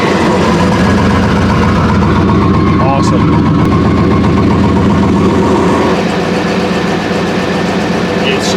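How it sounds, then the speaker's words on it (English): A single cab truck engine idles steadily and loud throughout, with a low rumbling drone as people talk briefly over it. "Sounds like a stock truck."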